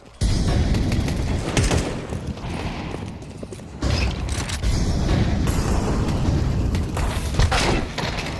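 Pistol gunfire in a Counter-Strike match: dense, rapid shots crackling continuously over busy game noise, loud and close with no pause.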